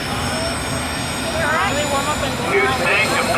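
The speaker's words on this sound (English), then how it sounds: "There's the jet warming up there now." A jet engine spools up at an auto race track, a steady broad roar with a rising whine partway through, loud and continuous, with people talking faintly nearby.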